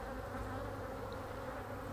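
Honey bees robbing honey at a crack in a hive during a fall inspection, a dense, steady buzzing swarm filling the air at close range with no pauses.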